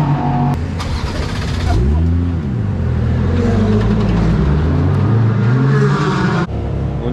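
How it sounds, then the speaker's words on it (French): A race car pulls away on fresh new tyres, its engine revving hard and loud with rising and falling pitch as it accelerates close by, a steady roar throughout. "Allez, drop de pression et c'est Antoine qui va repartir."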